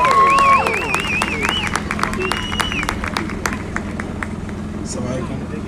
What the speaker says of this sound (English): Give him a big round of applause to Moat